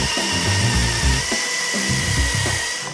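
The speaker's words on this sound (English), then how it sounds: "When you do this, you want to start with really light pressure because the drill bit does kind of just grab and go." A power drill with a conical pointed bit widens holes in wooden drawer runners for a Shaker table, backed by MDF. Its loud, close whine rises and dips in short bursts as the bit bites under load.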